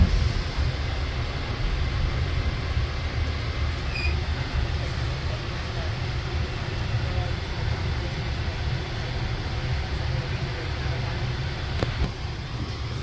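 An airport AirTrain people mover at JFK rumbles steadily on its track in a low, continuous drone, with faint clicks and hiss throughout and no clear talk.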